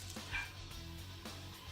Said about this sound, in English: They got that dog just a barking.